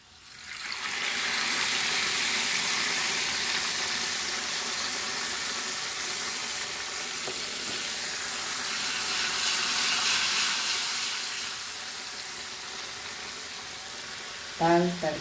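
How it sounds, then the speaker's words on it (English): Hot tadka poured into cooked dal at home sets off a broad, steady sizzle and hiss that swells and fades over several seconds, close to the listener with no talk over it. "So now we will give our tadka to our dal."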